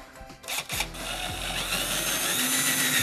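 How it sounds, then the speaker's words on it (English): A power drill bores into a wall, starting after a brief handling clatter. It spins up into a steady, loud whine that holds and strains slightly through the rest of the moment. "drill right through those little holes"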